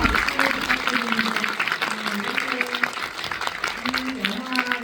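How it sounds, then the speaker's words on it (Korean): Audience applause at a Korean film screening with a guest Q&A, a sustained crowd clapping throughout, with voices talking over it. "여러분들 큰 박수 부탁드립니다."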